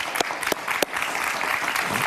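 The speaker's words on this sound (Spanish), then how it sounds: "Un aplauso para él, por favor." Audience applause in a studio interview setting, a brief stretch of dense clapping punctuated by a few sharp, loud claps close to the microphone.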